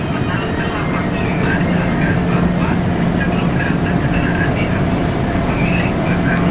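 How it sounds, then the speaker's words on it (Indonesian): A train reversing at a Jakarta station, a loud steady rumble of rail cars rolling slowly with continuous low mechanical noise throughout. "Keretanya mundur nih teman-teman."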